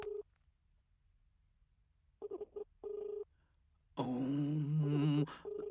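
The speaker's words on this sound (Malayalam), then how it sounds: "സാർ, റിങ് പോകുന്നുണ്ട്." A phone call rings back with short repeated tones broken by pauses, then a burst of garbled tinny voice through the earpiece, clear and close with no talk nearby.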